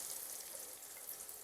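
Sliced carrots for mixed fried rice sizzle steadily in a hot pan, a soft continuous crackle heard alone at low volume.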